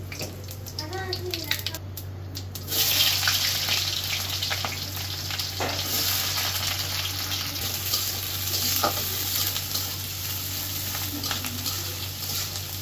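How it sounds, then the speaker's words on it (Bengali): Cumin seeds tempering in hot oil for a red poa fish curry, a steady close sizzle that rises sharply after a brief quieter opening, with occasional stirring clatter and a constant low hum beneath. "রান্নাটা বসাই দিই, এই যে জিরে ফোড়ন দিলাম।"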